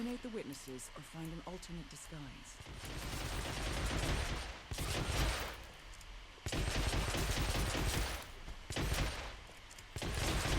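Gunfire in Hitman Absolution comes in loud rattling bursts and volleys with short gaps, while a voice talks over the action.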